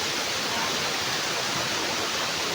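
A waterfall roars as a dense, continuous wash of broadband noise, close and loud, steady throughout with no talk.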